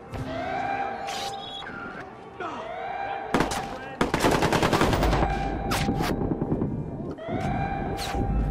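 Watch Dogs gameplay with loud, rapid automatic gunfire bursting over the game's music and effects, a sustained volley in the middle, close and heavy.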